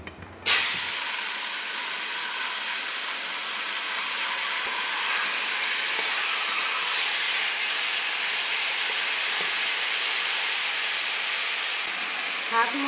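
Taro leaves (kochu shak) dropped into hot oil tempered with dried red chillies and bay leaf, a loud steady hiss and sizzle that bursts in and holds unbroken for the whole stretch.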